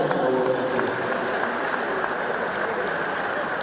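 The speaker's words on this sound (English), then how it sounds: "Please, a wonderful round of applause for the Vice" Steady, dense applause from an audience in a university hall at an inaugural lecture, a continuous crackling wash that holds evenly throughout without a break.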